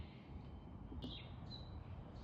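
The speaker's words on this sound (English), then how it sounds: "Some kind of bird. If you know what that bird is, by the sound it makes, leave a comment." A small bird chirps outdoors, a few brief high calls over a steady low background hum, faint and somewhat distant.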